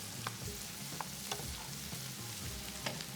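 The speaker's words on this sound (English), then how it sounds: "This is how sounds the winter stew." Winter stew sizzling in a pan while being stirred, a close, continuous bubbling hiss with a few sharp spatters and scraping knocks as it is turned.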